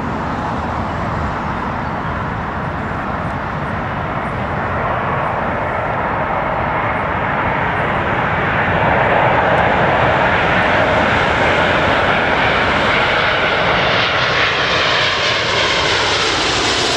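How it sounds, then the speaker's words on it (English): A British Airways Boeing 747 jumbo jet landing at Heathrow at sunrise, a loud continuous roar of jet engines that builds slightly and holds steady throughout, with no other sounds over it. "British Airways 747 landing."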